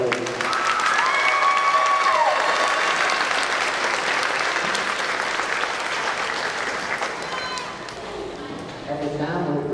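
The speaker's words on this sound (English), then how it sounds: "Give them another big round of applause." Audience applause at a fifth grade graduation ceremony, loud sustained clapping from a large crowd that fills the whole stretch, with a few whistles and cheers rising over it before it gradually thins toward the end.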